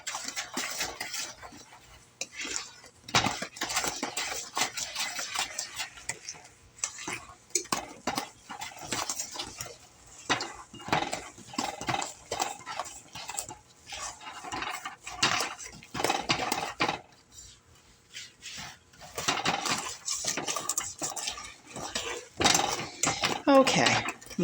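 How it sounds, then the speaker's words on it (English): A spoon stirring a home-cooked pot in a kitchen, with repeated clinks and scrapes of metal against the pot at an uneven rhythm, alongside occasional talk. "All right, we'll give this a stir."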